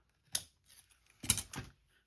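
A nicked craft blade catches as it trims layered paper for a mixed-media journal, making two faint, brief scraping snicks close up. No one speaks.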